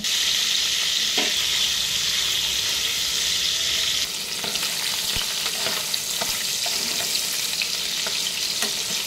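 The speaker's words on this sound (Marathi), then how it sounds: "त्याच तेलामध्ये थोडेसे बटर टाकून घेऊया। यामध्ये पनीर फ्राय करून घेऊया।" Paneer, 200 grams, fries in butter and oil in a pan, giving a steady loud sizzle throughout with occasional stirring clinks and scrapes, no voices.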